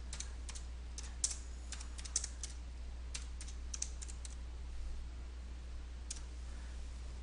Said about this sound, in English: let's just type in History and Context.